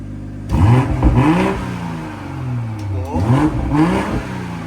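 Close, loud BMW B58 engine with a G42 downpipe revving in Sport Plus mode: two sharp rising bursts with a rough growl between them, the engine idling steadily in the gaps.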